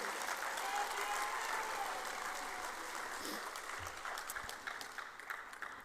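Audience at a university technology entrepreneurship pitch competition breaking into sustained applause with some cheering, a dense steady clatter of many hands that holds and slowly thins toward the end.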